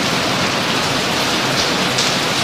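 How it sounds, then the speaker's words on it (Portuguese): Heavy rain pours down in a dense, steady roar of drops hitting surfaces, loud and unbroken throughout with no voices. "Eu só vou falar mais alto, porque a chuva tá forte"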